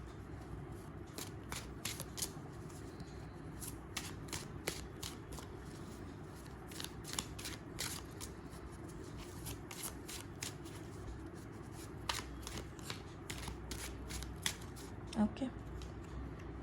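Tarot cards are shuffled by hand again and again, giving quick riffling bursts and soft flicks in an irregular rhythm that recur throughout, close to the ear and moderately quiet, with faint murmuring in the background.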